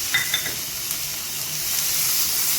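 Chopped onion frying in a pan, with tomato about to go in, gives a steady close sizzle and hiss, broken by a few light scrapes of a spoon stirring at the start.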